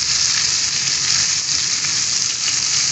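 Masala-stuffed okra frying in oil over high flame, a loud, steady, close hiss of sizzling that continues unbroken throughout.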